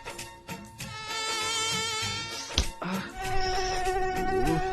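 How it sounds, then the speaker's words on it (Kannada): Mosquitoes whine in a thin, wavering buzz that rises and fades as they pass close, with a sharp knock partway through and a second whine drifting in afterward. "ಏನಿದು ಇಷ್ಟೊಂದ್ ಸೊಳ್ಳೆ ಆಗ್ಬಿಟ್ಟಿದೆ?"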